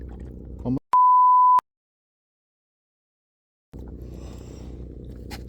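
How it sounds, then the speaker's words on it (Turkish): A single steady electronic beep, under a second long, cuts off a stretch of talk, followed by silence before speech resumes. "Evet küfür ve bunu da bipleyeceğim."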